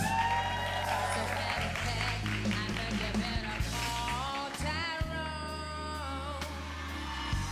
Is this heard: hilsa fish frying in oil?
no